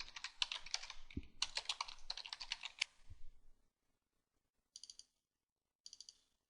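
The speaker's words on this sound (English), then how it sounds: "hopefully I can type this time" A computer keyboard clatters with fast, bright typing for about three seconds. Two short, faint clicks follow after a pause, all close and without any voice.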